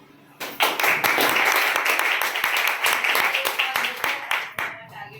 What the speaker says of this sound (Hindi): और सबसे पहले आप ताली बजाइए।